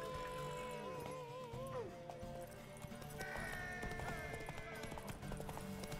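A horse gallops in the video game The Witcher 3, with steady hoofbeats and a whinny, while game music and voices play along.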